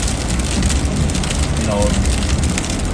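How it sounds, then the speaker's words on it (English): Steady dense hiss of rain and sleet falling outside on a winter storm day along US 82 in Honey Grove, North Texas, loud and constant, with someone speaking briefly over it. "Still raining and sleeting."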